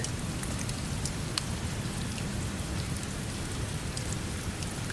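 Steady, even rainfall, soft and distant, forms a continuous wash of patter with no breaks or voices.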